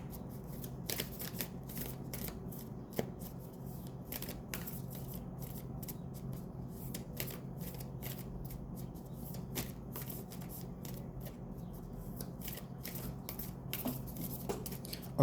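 A Moonology oracle card deck is shuffled by hand, a continuous close riffle of papery flicks and soft snaps over quiet room tone for a long stretch, with no talking.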